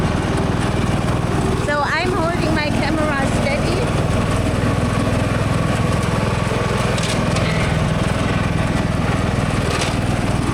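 A lawn mower runs steadily throughout while the property is mowed for the first time of the season, a loud continuous engine drone with a person talking over it.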